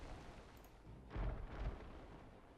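Warships in a naval strategy video game firing cannons, a couple of distant, muffled booms rumbling low over faint background ambience.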